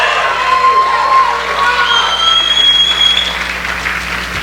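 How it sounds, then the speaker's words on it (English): Audience applause and crowd noise fill a student association's recognition show, a steady wash of clapping and cheering throughout, with some shouting and speech mixed in. "So please give them a round of applause as I call them up on stage."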